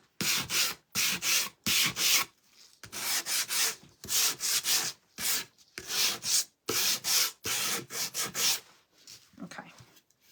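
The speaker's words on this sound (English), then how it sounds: "Get my little sander." A small electric sander works on wood in repeated short bursts, roughly a second each, separated by brief silences. The grinding is fairly loud and close.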